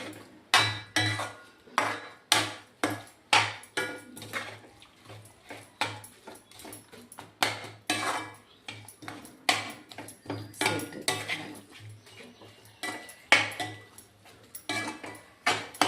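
Ladle scraping and knocking against a pan while coconut laddu mixture is stirred, a steady series of sharp metallic clinks and scrapes repeating every second or so, close and alone.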